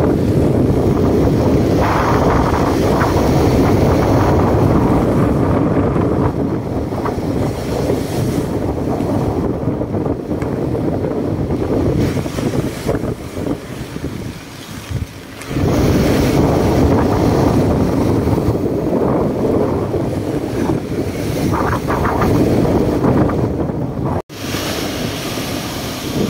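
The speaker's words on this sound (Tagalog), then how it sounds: "Laki ng alon mga kabayan." Big waves and strong wind at sea, roaring continuously and loudly with heavy wind buffeting on the microphone and surging water throughout, dipping briefly midway before building again.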